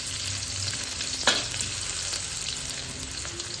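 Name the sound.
kangkung (water spinach) stir-frying in leftover tempe oil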